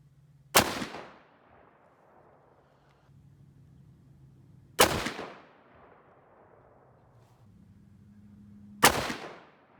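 A 6.5 Creedmoor rifle loaded with 130gr Sierra Tipped Game King rounds fires three sharp, loud shots about four seconds apart, each cracking and then decaying, with quiet low hum between them.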